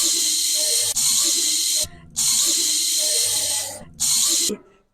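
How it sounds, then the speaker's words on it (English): Salon shampoo bowl sprayer hissing steadily in three long bursts with short pauses between them, loud and close, with water rushing into the basin. "What sound does a shampoo bowl make?"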